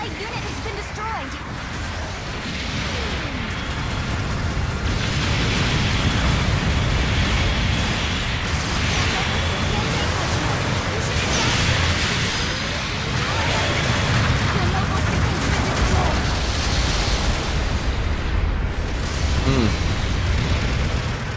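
Supporting fire explosions in the mecha combat game Gundam Battle Operation 2 roll as a dense, continuous barrage of booms and bursts, loud and sustained throughout with no pause.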